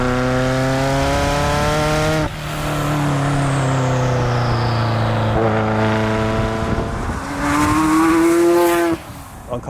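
A Ferrari F40 engine revs loudly with rising and falling harmonic tones, surging again near the end, close and sustained.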